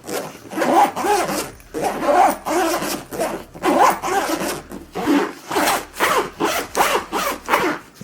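A zipper on a camera bag is pulled closed in a series of repeated rasping strokes, fairly loud and close, with no talking.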